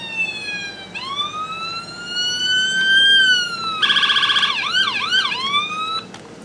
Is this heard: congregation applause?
no